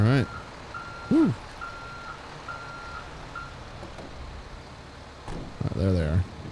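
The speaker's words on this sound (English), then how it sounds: "Oh, there's the fire truck." Fire truck reversing alarm in GTA 5 roleplay, a steady series of evenly spaced electronic beeps under louder engine and voice-like bursts at the start and end, with talk in the background.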